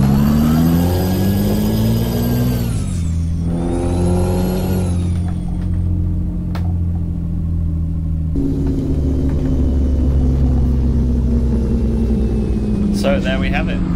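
Peterbilt 379 truck engine in Euro Truck Simulator 2, a loud, steady low diesel rumble that climbs in pitch as it revs through the gears, dropping at shifts, with a voice speaking over it.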